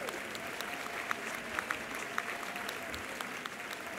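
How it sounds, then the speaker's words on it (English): Steady audience applause at an awards ceremony, a dense even wash of many hands clapping with a few sharper claps standing out, fairly distant and continuous throughout. "Give them a round of applause, please."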